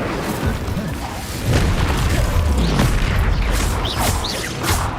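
Fire spell cast in Hogwarts Legacy, a loud booming burst of magical flame among a rapid chain of combat spells, with rumbling impacts and crackling bursts following close together.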